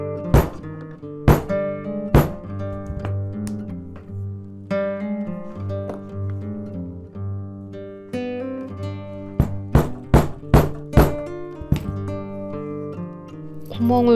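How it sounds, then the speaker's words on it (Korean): A rubber mallet strikes a hole punch with sharp, hard knocks a few times, then a quick cluster of repeated blows, with a steady musical hum underneath. "이거를 여기에다 대고 고무 망치로 쾅 쳐주면 구멍이 생깁니다"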